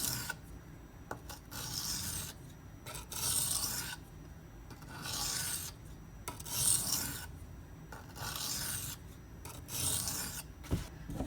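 A D2 steel Benchmade Mini Grip blade is drawn across a Shapton Pro whetstone, giving close, rhythmic rasping strokes that repeat every second or so with brief pauses between, and no talk.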